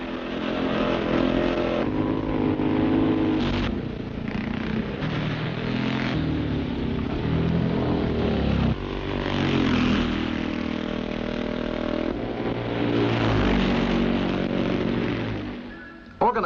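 Scrambling motorcycles ride through a gravel pit in Essex during a Sunday morning practice, with engines droning and revving continuously, several machines rising and falling in pitch, loud and close throughout.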